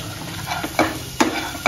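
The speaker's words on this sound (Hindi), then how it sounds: "अब इसको अच्छे से मिक्स कर लेते हैं, इसको अच्छे से मिक्स कर देंगे।" A spoon stirs spiced potatoes coated with gram flour in a pan, giving soft scraping and a few sharp scrapes and clinks against the metal over a low sizzle, close and fairly loud.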